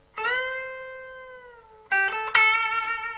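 An electric guitar sustains a note bent from A up to C that holds and fades, then two sharper picked notes ring out with vibrato, alone and close.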